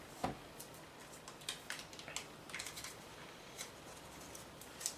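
An Apple TV remote's packaging being unwrapped by hand, giving sparse, faint crinkles, snips and small clicks scattered across a quiet background with no talking.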